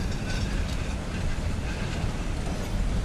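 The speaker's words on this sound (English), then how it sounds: "way down. See it? The trains." A train rumbles past with a dense, steady roar and faint rhythmic wheel clatter, loud and continuous from start to finish.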